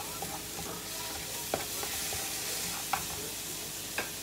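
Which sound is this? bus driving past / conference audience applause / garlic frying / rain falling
garlic frying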